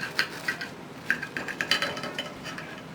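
Knife sawing through a grilled cheese sandwich on a plate, a series of light clinks and scrapes against the plate, close and fairly quiet, with no talk.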